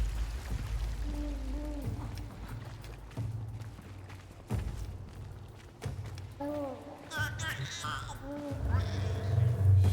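A baby in the Warframe video game cries like a kitten, with several short, rising mewling wails that come and go among in-game ambience and low background tones.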